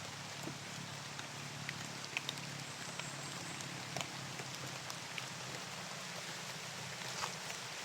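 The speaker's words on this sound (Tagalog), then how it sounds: "Sobrang lakas ng ulan." Heavy rain pours steadily in a video game, a dense continuous hiss with scattered brief drips and taps, a low hum underneath, no talking.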